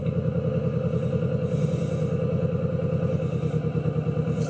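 A Kawasaki Vulcan S motorcycle engine idles with a steady, close, rapid throbbing pulse while the clutch is slowly released into the friction zone, the revs dipping slightly as the gear begins to grab.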